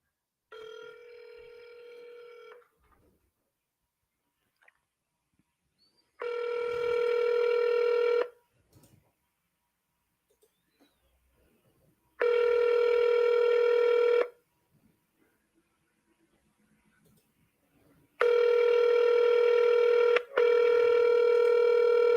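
An outgoing telephone call is placed, and a long ringback tone repeats four times in evenly spaced bursts with silent gaps between them. The line sounds clean and close, and no one speaks.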